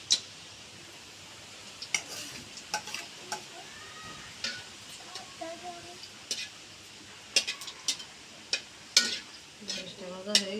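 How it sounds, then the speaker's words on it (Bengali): Dried chillies frying in a pan in a village home kitchen, with a spoon stirring and scraping in scattered clinks over a faint sizzle, and brief voices in the background. "শুকনো মরিচ ভেজে নেব।"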